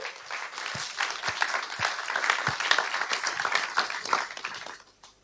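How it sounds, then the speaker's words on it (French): Warm audience applause for a woman named Esther after she shares a personal testimony, a steady wash of many hands clapping with a few sharper nearby claps, fading out at the very end. "On peut l'applaudir"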